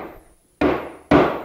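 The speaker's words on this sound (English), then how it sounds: "tap the legs, and that'll transfer the hole locations into the top" Two sharp knocks, a short pause apart, as wooden legs of a small jewelry chest are tapped firmly onto its tabletop, each with a brief ringing decay.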